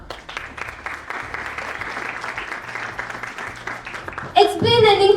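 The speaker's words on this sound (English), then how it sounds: "And if you have a big round of applause for that." An audience gives a round of applause, a steady wash of clapping under a low background hum, ending as a loud burst of music or cheering takes over.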